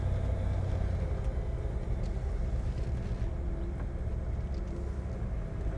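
A 1947 Ford Woody cruising at low speed, a steady, fairly quiet low engine and road rumble heard from inside the cabin, continuous and even with no voices.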